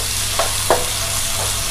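Chopped tomatoes sautéing in a pan over onions, a soft steady sizzle with two brief stirring scrapes, close and alone.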